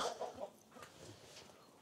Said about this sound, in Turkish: Şimdi tavukların içine geçelim abi. burası da tavuklar için.